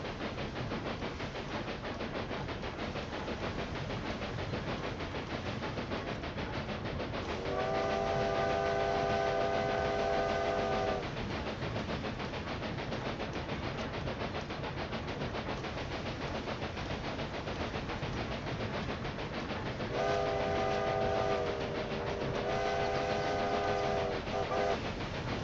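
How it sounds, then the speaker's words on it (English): Railway Empire 2 train running along rails, a continuous rumbling roll with steady clatter throughout, broken twice by long chord-like whistle blasts, with no talk. "The train doesn't even get its maximum speed by the time it reaches Porto."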